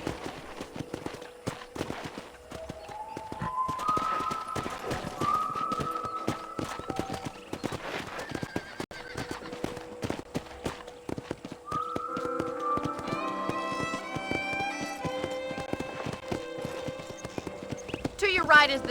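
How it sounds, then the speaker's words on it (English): Steady clip-clop of horse hooves trotting in Red Dead Redemption, with a horse whinny and rising musical tones over the game soundtrack; voices speak intermittently. "let's see if you can still ride a horse."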